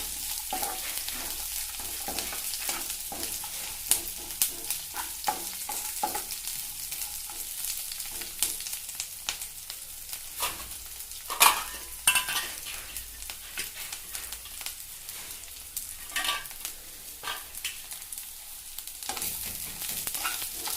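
Chana dal and peanuts fry in a pan with a steady soft sizzle and many quick spoon scrapes and taps against the metal, fairly quiet and close, with no one speaking.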